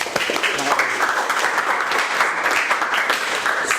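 A room full of people claps together, a dense, steady burst of applause lasting a few seconds.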